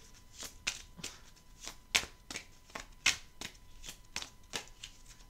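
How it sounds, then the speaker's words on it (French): Oracle cards being shuffled for a tarot reading, close and quiet, a series of crisp riffling snaps at uneven intervals, with nobody speaking. "Je vais prendre une carte."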